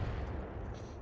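Mech weapons fire in the RogueTech game, a dense rumbling barrage with steady low-end weight and faint high whines layered on top, sustained and loud for the whole moment.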